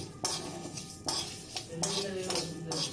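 Spices roast in a pan with a piece of cinnamon, and a utensil clinks and scrapes against the metal in repeated strokes over a faint sizzle.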